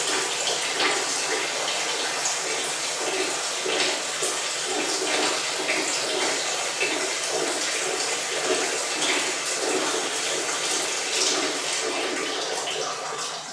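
Filtered water pours steadily from a MonH2O filter faucet into a sink, a constant close splashing rush that holds even from start to finish.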